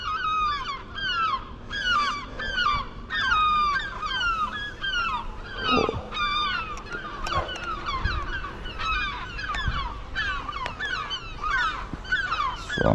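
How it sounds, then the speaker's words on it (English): Seagulls near a building call aggressively and nonstop, a dense overlapping chorus of loud, repeated squawking cries that carries on without a break, with no talking. "I'm just moving back from those seagulls a bit because they have been very menacing"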